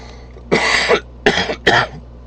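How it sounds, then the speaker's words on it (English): Three loud, close coughing bursts from a man during a guitar chord lesson, the first longer and the next two short, with quiet between them. "Sorry about the coughing."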